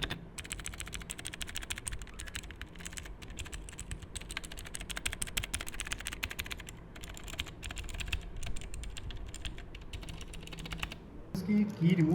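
Rapid clacking of a Cosmic Byte CB-GK-16 Firefly mechanical keyboard being typed on, dense uneven keystrokes up close, ending with a brief louder clatter.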